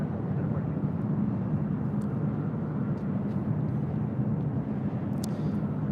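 A Delta Airlines Boeing 757-200 on Flight 424 to Minneapolis at LAX makes a loud, steady jet roar with a deep low rumble that holds evenly for several seconds, with no talking.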